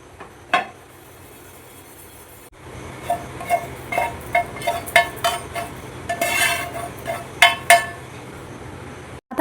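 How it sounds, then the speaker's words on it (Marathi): A spoon scrapes and clinks as roasted spices are moved from a pan into a bowl, a quick series of close metallic taps and scrapes after a brief quiet start. "मी एका बाउलमध्ये काढून घेते।"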